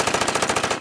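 A fast burst of gunfire, about a dozen rapid shots in an even rhythm, loud and close, with no talking over it.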